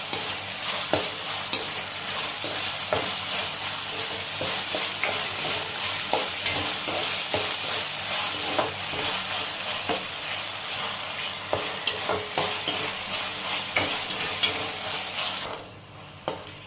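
Ginger garlic paste fries in a hot pan for tomato rice, giving a steady close sizzle broken by frequent scraping stir clicks. It runs continuously and drops off near the end.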